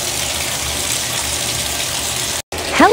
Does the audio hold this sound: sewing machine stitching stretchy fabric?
no